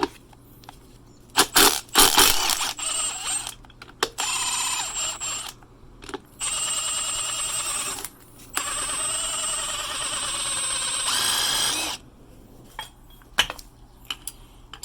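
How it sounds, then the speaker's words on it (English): Pneumatic impact gun spinning off the nut on a rear shock absorber of an Audi B8 A4, S4, A5 or S5, heard as several loud, sharp rattling bursts of a few seconds each, separated by short pauses. "Take the nut off, and yeah, let's try that with a gun."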